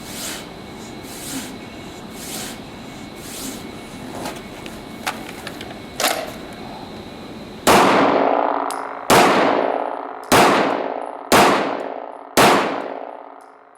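Five loud pistol shots ring out in quick succession during training, each bullet striking a steel target with a sharp metallic clang that decays slowly, preceded by quieter shuffling and clicks.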